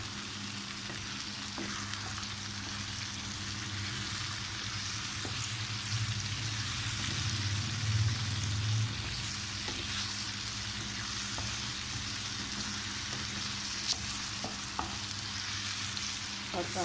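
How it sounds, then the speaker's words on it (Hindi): Multani eggplant bharta sizzles and fries steadily in a pan, a continuous close crackle with occasional stirring scrapes and no talking throughout. "5 से 6 मिनट हम इसको भून लेंगे।"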